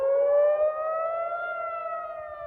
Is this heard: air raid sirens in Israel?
yes